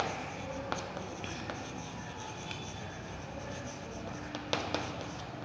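Chalk or marker scratches and rubs across a board during a maths lesson on quadratic polynomials, soft strokes with a few sharper taps, quiet and alone.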